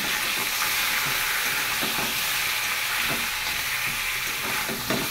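Chicken sizzling and frying in oil in a pan right after potatoes were fried, a steady loud hiss with occasional stirring scrapes, no talk.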